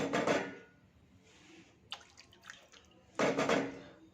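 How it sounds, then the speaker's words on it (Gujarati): Water, about one and a half glasses, poured into a cooking pot holding an onion and potato curry, heard as two short gushing splashes with a faint clink between them, close and quiet with no talking. "પાણી એડ કર્યું છે"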